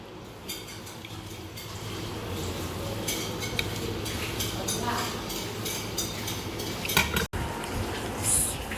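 Kerala chatti pathiri with chicken being plated: light clinks of cutlery and dishes come through at intervals over a steady background hiss, soft and close, with a brief sharp knock near the end.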